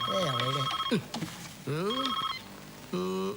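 A phone rings with a melodic, warbling ringtone in three separate bursts, with brief pauses between them.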